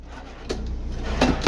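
Wooden drawers under a Corian-topped bathroom vanity in a 2008 Holiday Rambler Endeavor diesel pusher motorhome slide open or shut, giving a few soft nearby knocks and scrapes in a quiet room.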